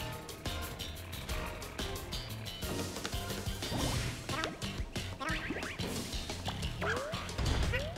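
Cartoonish dog barks and yips from the video game Yoshi's Woolly World, repeated in a busy stretch over music and game effects, with whimpering tones mixed in.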